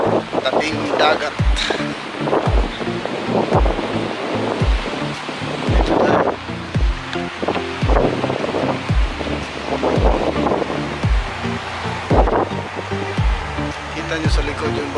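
Surf rolls in and breaks repeatedly with strong wind buffeting the microphone, a loud, continuous roar along the seashore.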